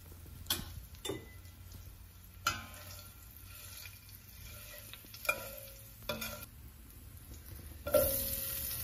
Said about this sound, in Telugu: వీటిని దోరగా వేయించుకోవాలి.